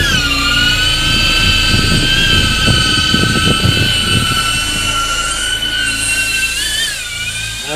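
A DJI drone taking off: a loud, steady high-pitched whine from the propellers and motors, close by, rising slightly near the end, with some low rumbling thumps early on and no talking.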